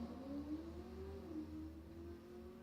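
At a drag race, a big heavy Cadillac and a Corvette accelerate off the line, heard as a steady engine drone with a slowly rising pitch, fairly distant and faint.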